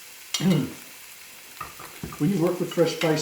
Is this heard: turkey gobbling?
no